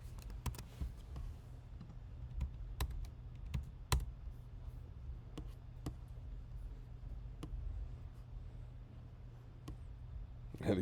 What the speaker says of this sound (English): What if I created a string S5 and I just kind of laid on the keyboard for a while?